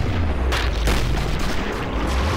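A grenade goes off in Killing Floor, a loud close boom with rumbling blasts under dense game noise.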